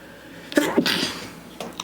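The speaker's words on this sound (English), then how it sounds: "I'm gonna sneeze." A person sneezes sharply at close range in a two-part burst, followed by a brief breathy exhale and a faint after-sound, with no speech over it.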